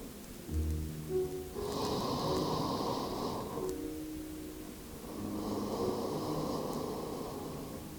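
Slow, deep breaths during a yoga session, two long airy exhalations rising and falling in turn, close and soft, with faint background hiss.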